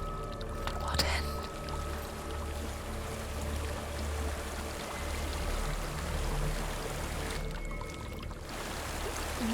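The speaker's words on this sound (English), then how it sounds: "There's a waterfall." A waterfall in the video game Hellblade: Senua's Sacrifice gives off a steady, full roar of rushing water that stays even throughout, with a faint voice-like murmur underneath.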